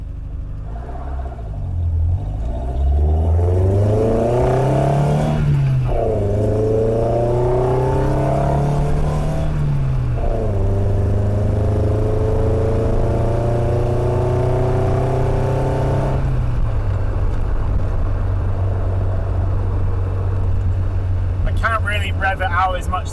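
A car engine converted from carburetor to individual throttle bodies rises and falls through several revs, then settles into a steady loud drone. Someone talks over it throughout.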